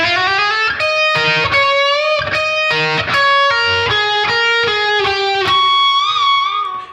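Distorted electric guitar slowly playing a riff, picked single notes and bends with wide vibrato and a pinch harmonic squeal near the end, loud and alone.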